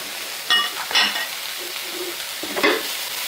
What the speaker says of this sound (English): We're just going to saute this broccoli up